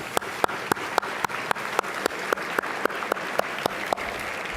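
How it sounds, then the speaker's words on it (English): Sparse clapping at a library fundraising lunch: a handful of distinct, evenly spaced claps ring out one by one over a quiet room tone, like a few people applauding slowly. "Let's give them a round of applause."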